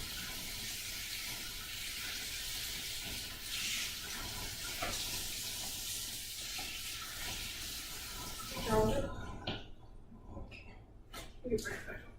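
Tap water runs steadily at a kitchen sink while vegetables are washed, a continuous broad hiss that cuts off near the end, followed by a few clinks and soft handling noises.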